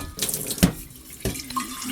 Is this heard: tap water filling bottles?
yes